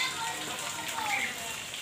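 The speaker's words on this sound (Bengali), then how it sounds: "দেখো বৃষ্টি পড়েছে" Steady rain falling outdoors, a soft continuous hiss of drops on surfaces lasting the whole moment, fairly close and even, with faint background voices.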